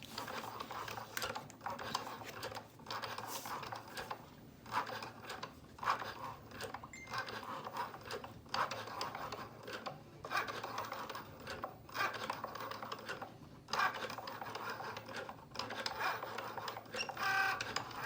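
A Cricut Joy machine cuts a card front, making quiet, busy mechanical whirring and clicking with rapid tapping pulses and short pauses, fairly faint and steady throughout.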